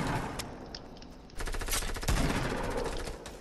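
Rapid gunfire in a Fortnite match, bursts of shots and automatic fire coming from a distant enemy position at Salty, loud and continuous with sharp cracks, no talk over it.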